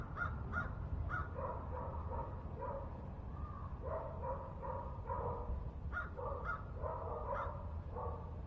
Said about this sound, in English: Hey, you got birds